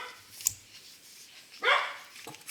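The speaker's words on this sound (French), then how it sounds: "Excusez-moi pour les chiens." Dogs bark indoors in the background, with a short yip early on and then a louder, sharper bark burst later, both fairly distant.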